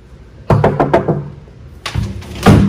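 Knocking on a door: a quick run of four or five sharp knocks, close and loud, then a pause before a louder, rougher burst of knocking near the end.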